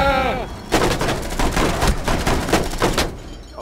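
Rapid bursts of automatic gunfire in Rainbow Six Siege, a Kafe Dostoyevsky team deathmatch hostage round, crackling loud and close in repeated volleys for several seconds, with a game tone at the start.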